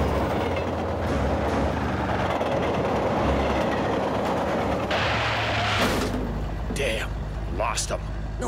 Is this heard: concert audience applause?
no